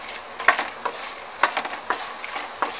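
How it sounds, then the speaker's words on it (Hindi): Makhana (fox nuts) frying in ghee while being stirred, giving a soft sizzle with a series of spaced scraping stir strokes, close and moderately quiet, with no voices. "के अंदर ऐड कर देंगे मखाने, और इसे चलाते हुए बहुत अच्छे से फ्राई कर लेंगे।"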